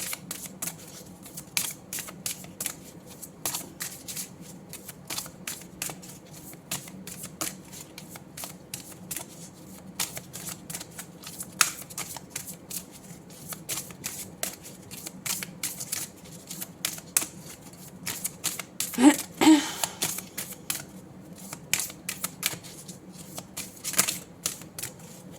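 Oracle cards shuffled by hand in a quiet room during a tarot-style reading, with a steady run of soft papery riffles and flicks, a louder burst near the end, and no voices.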